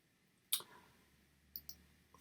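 Computer mouse button clicks, one sharp close click followed a second later by a quick pair of softer clicks, in a quiet room with no talk.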